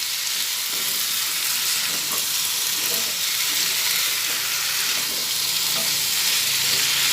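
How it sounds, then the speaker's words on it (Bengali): Rice and pumpkin frying together in a pan, a loud continuous hiss of sizzling oil with the soft scrape of stirring underneath, steady from start to finish with no voices. "একসঙ্গে চাল আর কুমড়ো সব ভেজে নিচ্ছি"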